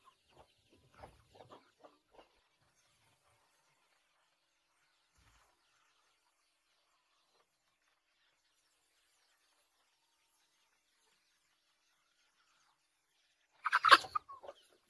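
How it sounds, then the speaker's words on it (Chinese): A hen leading twelve chicks clucks in a rural mountain farmyard, with a few soft, faint clucks early on, a long quiet stretch, then a brief louder flurry of clucking near the end. "这是带12只小鸡的只母鸡，它小鸡都这么大了，基本上有一大半都是公鸡。"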